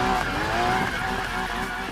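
A car drifts in the Need for Speed Payback racing game, its engine droning steadily under a sustained squealing skid of tires, loud and continuous throughout.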